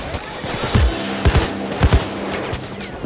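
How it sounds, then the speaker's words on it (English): Video game gunfire from Payday 2 crackles in quick bursts and single shots, loud and dense over a constant background of game noise and echo, several heavier booms standing out along the way. "A little cover fire."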